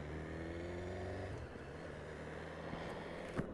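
A 2018 BMW S1000R naked sport bike's engine running steadily close by, with a low harmonic drone that shifts pitch as the motorcycle pulls away, faint and even throughout.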